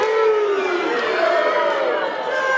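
A wrestling crowd at a VCW match between Gino Medina and Papadon roars steadily after a two count, a dense wall of cheering and shouting that holds loud throughout.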